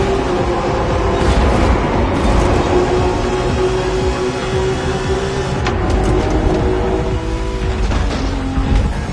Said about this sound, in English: This is the Liberty Walk version of the 92 Honda NSX.